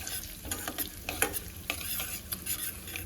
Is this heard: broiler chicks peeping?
no